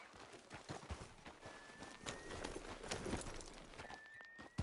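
Horse hooves clip-clop steadily in the Red Dead Redemption 2 game world, a moderately quiet rhythmic plodding under a dense layer of ambient outdoor game sound.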